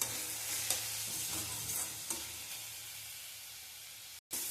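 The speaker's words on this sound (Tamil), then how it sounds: "இப்போ புடலங்காய் எண்ணெயிலே நல்லா வதங்கிருச்சு." Snake gourd sautés in oil in a pan, a steady close sizzle with scraping stirs breaking through every second or so and a brief drop near the end; no one speaks.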